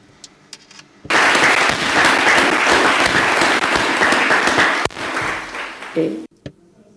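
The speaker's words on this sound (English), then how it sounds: "I would like to give you an applause." An audience at a symposium bursts into sustained, dense applause for prize-winning students, loud and continuous for about four seconds before tapering off into scattered claps, with brief talk before and after.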